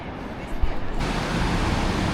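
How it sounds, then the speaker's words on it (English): Water spilling over a river dam in Chester, a constant broadband rushing roar that grows fuller after a brief jump, heard steadily without talk. "I love this dam here, such a great idea. So much water spilling over."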